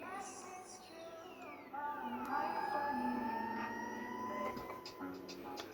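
An auto drop effect from VirtualDJ played through a Numark NS7 DJ controller: sweeping tones glide and siren-like pitches rise and fall over steady background music, moderately loud and continuous.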